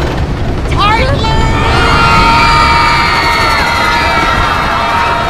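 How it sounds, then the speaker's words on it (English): Many passengers scream and whoop together as a train plunges down the steepest downhill grade of a glacier gulch, a loud chorus of shrill overlapping cries over rushing rumble. "You're not supposed to have people screaming sounds."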